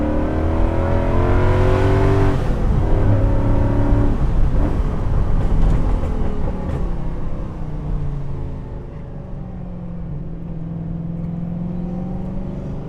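A TVR Chimaera sports car's loud, raw exhaust roars close by, with deep rising and falling engine tones through hard acceleration, then settles into a steadier lower drone.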